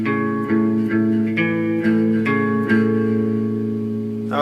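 An electric guitar slowly picks a riff, one note at a time in an even rhythm, each pluck ringing clearly over sustained tones, alone and close, with a final scrape at the end.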